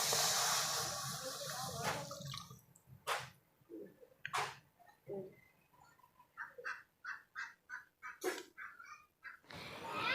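Water is poured into a hot kadai and gives a loud sizzling hiss for about two seconds, then dies away. Afterwards, scattered chirps and clucks of birds sound nearby in a quiet kitchen.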